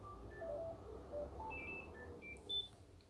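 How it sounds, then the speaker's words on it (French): A telephone rings indoors with an electronic melodic ringtone: a run of short beeps that step between different pitches, at moderate level over a low background rumble, with no talking. "Faut toujours qu'il y ait le téléphone qui sonne au moment que je fais une vidéo."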